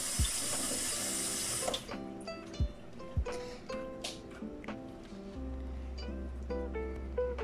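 A kitchen tap runs into a sink while food is washed, with a steady stream of water, splashes and clinks of dishes. A low hum starts partway through.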